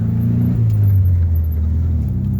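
A car's engine drones low and close inside the cabin as it accelerates; the pitch drops as the gear shifts, then the engine keeps humming steadily, with no talk.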